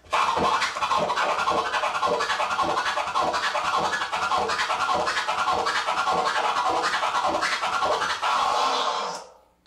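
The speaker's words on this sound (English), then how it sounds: "the flare sounds like this" A rapid flare scratch on a turntable, with quick, fluttering stutters layered into a dense, continuous rhythmic run, loud and up close before stopping abruptly.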